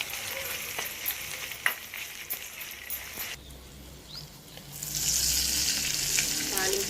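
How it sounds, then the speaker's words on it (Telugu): A pan tempering of curry leaves and asafoetida for temple-style katte pongali sizzles and crackles with sharp pops, growing into a louder continuous fry near the end, heard close up without talking. "తాలింపు ప్రిపేర్ చేసుకున్నామండి"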